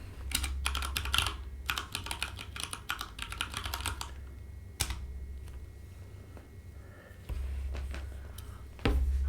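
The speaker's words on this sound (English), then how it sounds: "Am I typing this wrong?" Computer keyboard typing during web development work, bursts of quick close clicks with short pauses between them and a few isolated heavier key presses.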